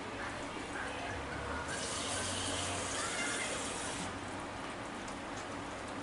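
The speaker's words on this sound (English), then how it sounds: "We are going to add a 1/2 cup of water." Water pours and splashes steadily for several seconds, a continuous gushing rush that swells louder midway before easing back.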